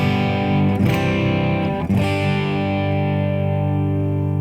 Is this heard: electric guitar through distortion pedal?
yes